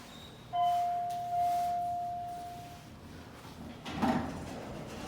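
A hydraulic elevator's mechanical door slides shut fast, with a steady beep tone at the start and a soft thud as it closes, set against quiet room hum.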